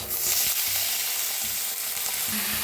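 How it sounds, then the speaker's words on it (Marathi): Pieces of bottle gourd frying in hot oil in a pan, a loud, continuous hiss and crackle with a few soft scraping stirs, no talking. "पहिला आपण भोपळा भाजून घेऊया।"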